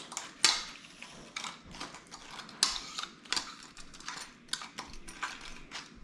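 Wet, clattering tumbling of air-fried chicken wings being tossed in sauce, with repeated scraping and knocking bursts, close by and fairly quiet.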